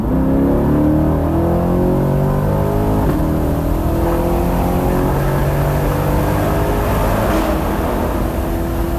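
A Chevrolet C8 Corvette with a new air filter pulls hard from 60 to 130 mph, a loud, continuous engine roar rising steadily in pitch over road and wind noise.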